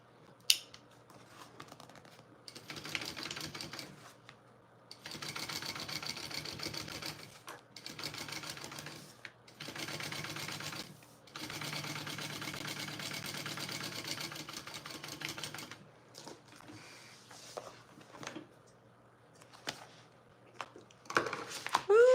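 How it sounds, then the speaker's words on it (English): Sewing machine top stitching a seam on a sewing project, running in several bursts of steady rapid stitching separated by short pauses, close and fairly loud with no talking. "you want your seam to be towards the main panel as you top stitch"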